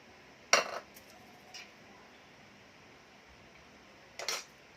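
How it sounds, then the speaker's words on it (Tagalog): A utensil stirs a maja dessert mixture in a pan, giving one sharp clink, a softer tap a second later and another clink near the end, with a quiet background between. "Kailangan haluin siya ng haluin para hindi magdikit-dikit, hindi magbuo-buo."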